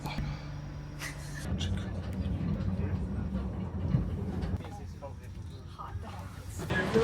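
Low rumbling of a moving train near Roma Termini in Rome, with rolling wheel noise and rattling carriage sounds, people talking over it.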